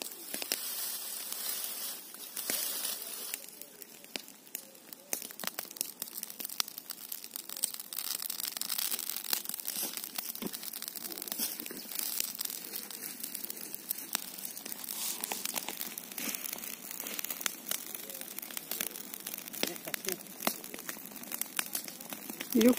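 Dry brush and field vegetation burning as land is cleared for planting, giving a steady, close crackling and hissing that runs throughout, with brief snaps and no talk.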